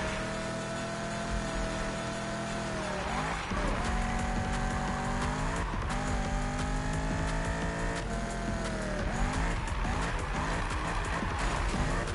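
A Camaro drifts in the video game Destiny, its engine droning steadily while tires squeal in long sliding whines that rise and fall repeatedly, loud and continuous over the whole stretch.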